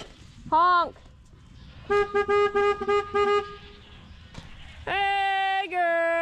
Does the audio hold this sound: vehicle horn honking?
yes